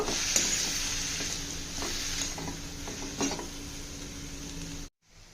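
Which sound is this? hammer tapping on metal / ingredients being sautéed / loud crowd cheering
ingredients being sautéed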